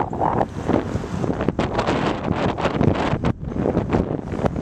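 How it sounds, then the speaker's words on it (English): Strong wind buffets the microphone in loud, irregular gusts, rumbling and roaring continuously with occasional brief drops, during a bicycle ride in March rain near Salinas. "I can hear the wind."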